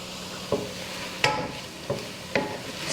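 A spoon stirs black bean soup seasoned with chili powder and salt in a pot, making four soft scraping knocks at roughly regular intervals over a faint background sizzle.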